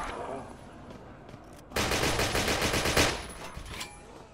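Sten submachine gun fire in Call of Duty Cold War Zombies, a loud sustained burst of rapid automatic shots kicking in after a quieter stretch of game ambience and continuing to the end.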